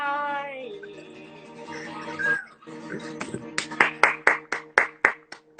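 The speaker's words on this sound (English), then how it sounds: "Hold your applause." Hand claps from an audience for a comedy performer, starting sparse under a fading musical tone and building into a run of sharp, evenly spaced claps.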